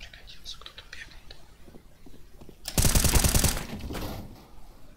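Gunfire in the Danger Zone shooter game: a sudden loud burst of rapid automatic shots at close range, with low speech and quiet game sounds around it.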